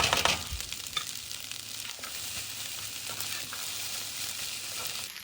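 Pineapple fried rice with cashew nuts stir-frying in a hot pan, a steady broadband sizzle holding throughout at close range, with a few brief scrapes near the start and no voices.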